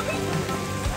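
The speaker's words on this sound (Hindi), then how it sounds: "यहाँ ओले पड़ रहे हैं" Hail falling during a family road trip to Gangotri Dham, heard as a dense, even patter of hard drops close by, steady through the whole short moment with no talk.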